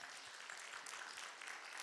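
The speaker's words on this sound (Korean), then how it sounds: "우리 아버지 되시는 하나님께 영광의 박수 올려드립시다." A church congregation at a Korean family worship service claps together after a closing prayer, a steady broadband patter of many hands held at an even, moderate level throughout.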